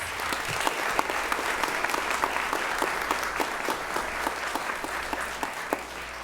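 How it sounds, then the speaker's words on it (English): Steady applause from an audience at a Hampton City Schools board meeting in September 2025, honoring elementary administrators; many hands clapping evenly at moderate distance, sustained throughout with no one speaking over it. "Let's give these administrators a round of applause."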